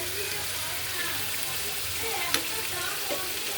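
Fried green chilli and onion being stirred into boiled masoor lentils, a steady soft sizzle with scraping stir sounds and a sharp clink partway through.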